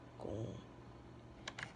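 Quick bursts of typing on an upside-down computer keyboard, a few soft clustered key clicks at close range, fairly quiet with a low hum beneath.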